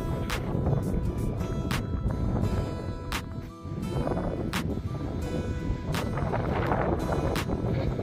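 Strong wind buffets the microphone in continuous low roaring gusts, with occasional sharp clicks and knocks throughout.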